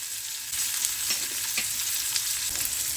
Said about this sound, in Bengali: এবারে পেঁয়াজটা দিয়ে দিই। কাঁচা লঙ্কাটা দিয়ে দিচ্ছি।